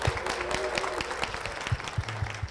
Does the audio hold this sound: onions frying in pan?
no